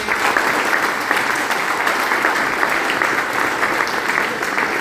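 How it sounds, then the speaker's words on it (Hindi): An audience claps loudly and continuously in dense, sustained applause, close and steady for several seconds. "एक बार जोरदार क्लैपिंग।"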